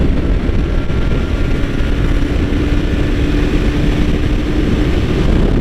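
A 2015 Yamaha R3 motorcycle is ridden at high revs, around 9,000 to 10,000 rpm. The engine drones loudly and steadily under heavy rushing wind noise, with no pauses.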